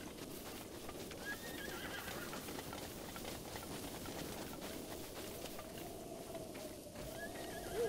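A wild horse in The Legend of Zelda: Breath of the Wild whinnies and neighs while its hooves clip-clop across the ground, set against a soft game ambience with occasional bird coos.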